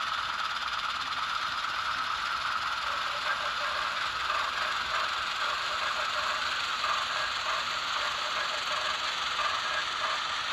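Rapido 44-tonner model locomotive throttling up on its sound decoder, a steady, even engine drone with a light mechanical clatter that runs continuously at a constant level with no voices.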